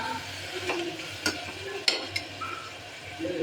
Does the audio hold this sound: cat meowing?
no